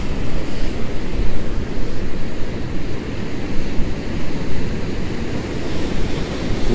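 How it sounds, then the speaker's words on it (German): Storm-surge waves pounding the Baltic Sea coast on Usedom, a loud continuous roar of surf with wind buffeting the microphone, surging and receding without any talk. "Das ist schon sehr beeindruckend, was für Kraft die Wellen haben, die Ostsee hat."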